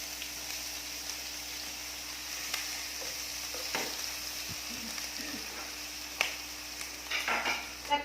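Raw pork belly is dry-roasted in a pan, making a soft continuous sizzle with scraping stirs and scattered clicks of the utensil, the sharpest knocks near the end.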